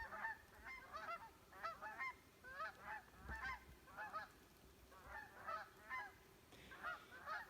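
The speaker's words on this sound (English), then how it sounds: "We have a flock of geese coming over." A flock of geese honks while flying overhead in the Adirondack woods, a faint, distant chorus of repeated calls in quick clusters that continues steadily throughout.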